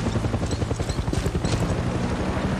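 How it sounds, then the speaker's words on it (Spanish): Helicopter approaching in the game Far Cry 6, a steady low rotor thump with dense chopping pulses filling the low end, fairly loud and continuous, with no voices over it. "Oh, escucho un helicóptero."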